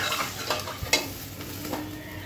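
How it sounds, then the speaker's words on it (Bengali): Water is poured into fried spices in a pan for a rohu fish curry, raising a steady hiss and sizzle with a few scraping stirs, close and continuous for a brief moment. "ভাজা মশলার মধ্যে এখন পানি দিয়ে দিচ্ছি"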